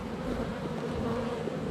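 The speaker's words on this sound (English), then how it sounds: "The bees will come and take all the nectar out and clean those frames up." Honey bees buzzing around beehive frames full of honey, a dense, steady close drone with no pauses throughout.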